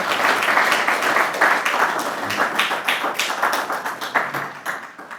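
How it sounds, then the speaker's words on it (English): Audience clapping steadily after a talk at a conference session, dense and sustained applause filling the room, tapering slightly toward the end. "Can we clap again for José García?"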